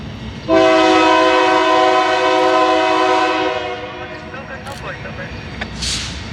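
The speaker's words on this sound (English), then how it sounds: "UP 6532, a C44AC leads its manifest train, Railroad East over the Diamonds." A loud, sustained horn blast from Union Pacific C44AC diesel locomotive 6532 leading a freight train over a diamond crossing in Franklin Park, then fades as rail noise and faint voices continue behind it.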